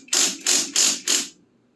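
An impact wrench loosens wheel hub nuts on a Triumph Spitfire in four quick rattling bursts, evenly spaced and loud up close, then stops.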